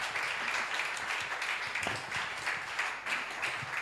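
A church congregation applauding during a worship service, a dense, steady wash of clapping from many hands at moderate distance, sustained without pause.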